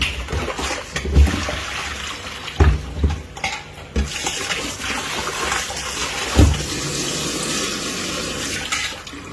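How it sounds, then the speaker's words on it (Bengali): Fish being washed under running water in a kitchen, with a steady splashing stream broken by several heavier splashes and knocks as the fish are handled. The sound is close by, and no one speaks. "ধুয়ে নাও মাছ বারবার করে যে মাছটা খুব ভালো করে ধুলে মাছ থেকে বাজে বন্ধ থাকে না"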